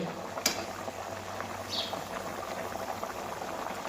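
Potatoes cook in a pot of boiling water, a soft, steady bubbling with an occasional brief clink, fairly quiet and close.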